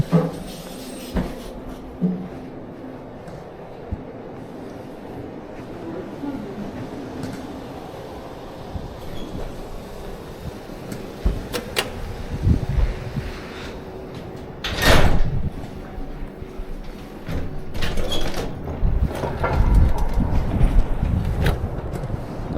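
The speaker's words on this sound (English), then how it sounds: "Doors opening." Elevator doors open at street level: a long stretch of mechanical hum and rumble broken by clunks and a sharp sliding slam near the middle, then more rattling movement.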